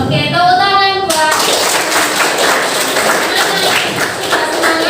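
Schoolchildren in a classroom clap their hands together in a loud, busy burst of overlapping claps close by, following a brief sung voice at the start.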